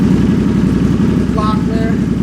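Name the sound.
2005 Suzuki Boulevard C50 motorcycle engine starting and revving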